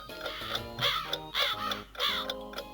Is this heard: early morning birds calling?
yes